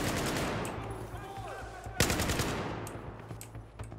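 Gunfire aimed at a fence in the video game Battlefield 4. Dense, continuous automatic shots rattle under a steady game background, with one sharp louder blast near the middle before the firing trails off.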